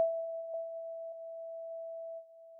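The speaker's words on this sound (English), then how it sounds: "We'll grab this Midnight 2 sound from GMS, and this has a really nice echo, dreamy, pluck kind of sound." Dreamy pluck synth patch called Midnight 2 from GMS in FL Studio, used for a lo-fi beat: a steady, sustained pure tone carrying soft pluck accents at a slow, even pace, with no voices.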